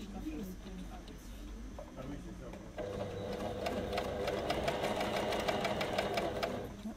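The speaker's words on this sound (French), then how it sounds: "on est en train d'utiliser actuellement la recouvreuse, ici le modèle Janome" A Janome coverstitch machine fitted with an elastic attachment runs in a steady, rapid stitching rhythm after a brief pause, with someone talking softly over the whirring.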